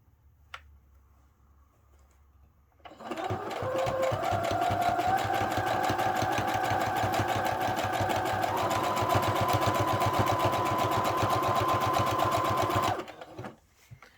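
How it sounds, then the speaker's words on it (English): A sewing machine backstitches a zigzag seam on a satin-lined bonnet, starting after a short pause with a rapid steady mechanical chatter of the needle, loud and close, running about ten seconds before stopping. "we're going to start back stitching at the beginning. And even with the zigzag, you want to backstitch because it'll help lock in the stitches."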